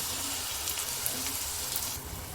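Tomato puree with ginger garlic paste and curry leaves frying in a pan for a chole masala curry, giving a soft, even, continuous sizzle with no talking.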